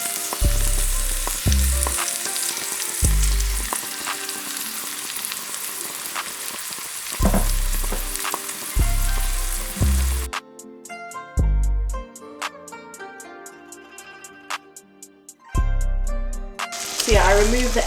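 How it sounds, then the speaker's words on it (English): Prawns fry in a pan for fried rice, a loud, close sizzle with stirring scrapes, interrupted by bursts of music and a brief quieter stretch before the sizzle returns. "I'm just making the prawns cook down on their own"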